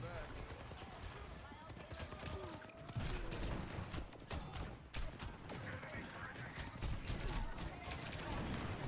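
Overwatch gunfire: rapid, dense shots and bursts crackle steadily and up close throughout, with a voice speaking over the battle.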